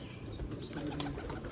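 Sialkoti pearl pigeons giving soft, faint coos with light wing flutters nearby, quiet and brief.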